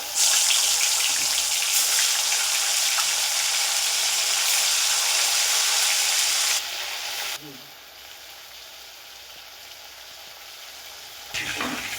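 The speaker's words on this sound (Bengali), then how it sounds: "তেল গরম হয়ে গেছে, মাছটা দিয়ে দিলাম" Hilsa fish fries in hot mustard oil in a kadai, a loud, dense, steady sizzle for several seconds that then drops to a quieter crackle.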